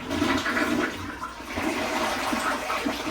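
A house toilet flushes nearby as it is emptied before removal, giving a loud rush and swirl of water that surges and gurgles for a few seconds.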